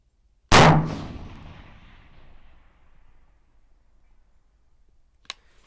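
One loud report from an MK12 Mod 0 AR-15 rifle aimed at a target 810 yards away, ringing out over open country with a long fading echo, then a faint distant impact several seconds later.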